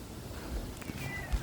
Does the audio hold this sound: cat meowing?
yes